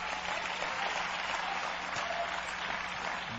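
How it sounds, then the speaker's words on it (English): Church congregation clapping hands, a dense, even round of applause that holds steady from start to finish. "Give God a big hand clap."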